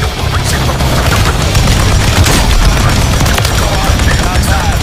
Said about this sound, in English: Who's the heavy machine gun, man?